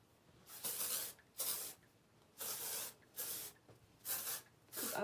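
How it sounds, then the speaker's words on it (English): Amika Undone texture spray is misted onto the ends of hair in about six short, close hissing bursts separated by brief pauses. "I'm just gonna spray it liberally throughout the ends of my hair."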